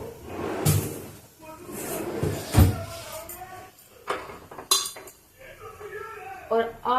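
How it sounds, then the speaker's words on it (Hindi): Homemade ghee made from a week of saved milk cream is strained into a metal pot, with scattered clinks, scrapes and knocks of metal utensils against the vessel in an irregular rhythm. "घी यहाँ मैंने मलाई से बना लिया है। आज 1 हफ्ते की मलाई हो रखी थी, तो मैंने घी बना लिया है। उसको भी मुझे बर्तन में छानना है सारा।"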